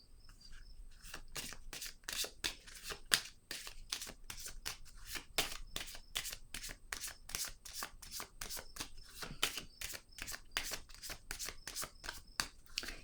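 Playing cards being shuffled by hand in a quiet room, a long series of crisp riffling and flicking bursts in a fairly steady rhythm, close and soft.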